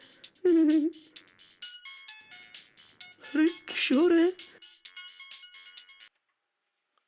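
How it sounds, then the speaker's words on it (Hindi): A melodic phone ringtone, apparently from a broken phone, plays in repeated phrases, loud and close, while someone speaks briefly over it before it cuts off. "अरे ये क्या, टूटे हुए फोन पे फोन कैसे आ रहा है?"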